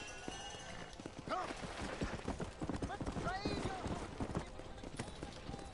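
Horse hooves clip-clop steadily in Red Dead Redemption, with a few whinnies mixed in and someone talking over the rhythmic hoofbeats.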